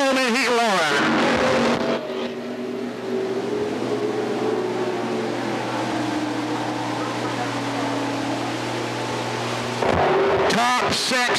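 Stock cars in a heat race at Thunder Road, including a 65 Ford and an 04 Chevrolet, roar past continuously in a loud engine drone, with announcer talk at the start and end.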